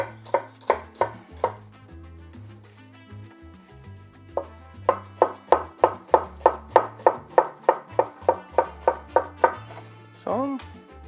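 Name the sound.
knife chopping raw onion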